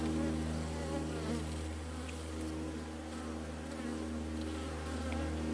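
Honeybees buzz around a hive in a bee yard early in the beekeeping season, a dense, steady drone close by with a few louder passes as individual bees fly near, no talking.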